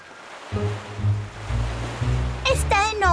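Violent cartoon sea waves surge and crash in a rumbling, rising wash of surf, building in several swells before a character's voice cuts in over the water at the end.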